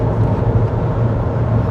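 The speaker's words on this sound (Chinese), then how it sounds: "我感觉它引擎的噪音也小。" Proton X70 SUV cruising at highway speed, engine and cabin noise forming a steady, low, even drone with road rumble, close and unbroken throughout.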